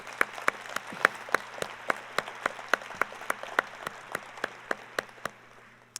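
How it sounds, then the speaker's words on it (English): Applause at the Fresno State fall faculty and staff assembly, heard as a run of crisp, evenly spaced claps in a steady rhythm, fairly close and moderately loud, gradually tapering off. "Let's give that one an applause."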